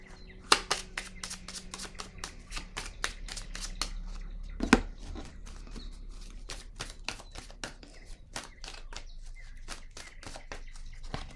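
Tarot cards shuffled by hand, close and quiet: rapid crisp riffling snaps and slaps in irregular bursts, with one sharper knock partway through, and no talking.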